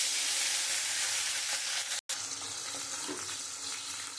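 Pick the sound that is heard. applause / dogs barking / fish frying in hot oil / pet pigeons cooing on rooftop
fish frying in hot oil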